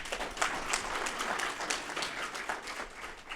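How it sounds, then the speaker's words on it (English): Steady, moderately loud applause from a conference audience for an AI panel discussion, many hands clapping in a continuous wash with no talk over it. "can we please give our panel a round of applause?"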